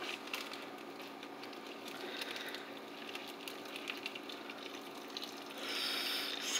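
Steady rushing pour of hot water into a container to cook food, a continuous gushing hiss with faint clinks, growing slightly louder near the end.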